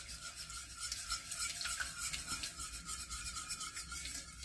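A whisk scraping and stirring milk into thickening béchamel sauce in a pan, a continuous rhythmic metallic swishing and rubbing, close and moderately quiet, with no talk.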